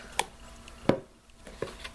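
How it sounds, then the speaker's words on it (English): Homemade french fries being cut from potatoes with a small fry-cutting gadget: three or four sharp chopping thunks spaced apart, fairly close, with quiet gaps between and no talking. "We have this little gadget here that my husband's using to chop up our french fries"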